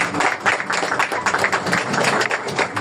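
A church congregation claps in an extended round of applause, dense and fairly loud, with uneven bursts of hand claps filling the room.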